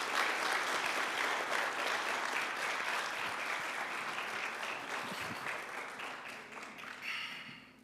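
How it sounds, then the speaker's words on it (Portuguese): A congregation at a church service breaks into sustained, dense applause to welcome a couple, loud and even throughout, thinning slightly toward the end with no voices on top. "Eu quero pedir aos irmãos que os recebam com uma salva de palmas."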